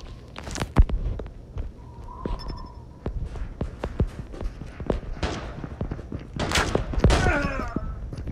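Video game gunfire from Call of Duty Mobile: scattered sharp shots and short bursts, some loud and close, spread among footsteps and movement noises, with a busier cluster of shots near the end.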